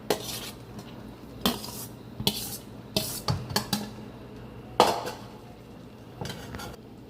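Rice and crisp fried onions being spooned into a pot of egg biryani: a series of spoon-on-metal scrapes and clinks, some sharp, spread across the clip, with no talking.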